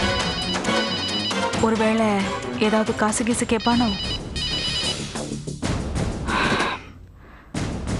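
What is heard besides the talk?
phone ringing with an incoming call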